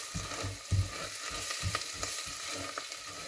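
Ground turmeric and fennel powder sauté in a pan, giving a soft continuous sizzle broken by quiet scraping and stirring thumps, close but low in level.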